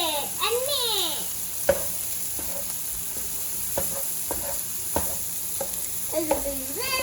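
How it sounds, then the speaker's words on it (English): A spoon stirs salt and pepper into a beaten egg mixture for an omelette, with light scraping and clinking close by, and a voice chirping over a steady hiss. "Let's stir it and mix."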